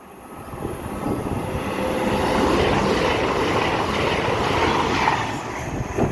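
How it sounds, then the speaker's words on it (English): An Avanti West Coast Pendolino electric train passing through a station on the West Coast Main Line, a broad rushing rumble that swells, holds steady, then eases as it goes by; no speech. "passing through now is another Avero"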